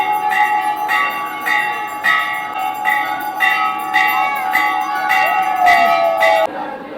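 Temple bells ringing during aarti at Radha Raman temple in Vrindavan, a bright metallic peal struck in a steady rhythm of about one stroke per second, loud and close, with lingering ringing tones until it stops near the end.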